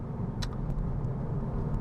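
A 2017 Hyundai Elantra Sport's engine with tuned exhaust drones under heavy load with a heavy, low booming rumble, steady and close, without a break for the whole moment.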